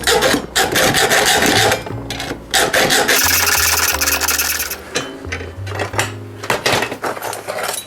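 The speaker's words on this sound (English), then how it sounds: "More filing." Metal being filed by hand while building a bicycle frame, close and loud repeated rasping strokes in a steady back-and-forth rhythm, with a few brief pauses and scraping clinks.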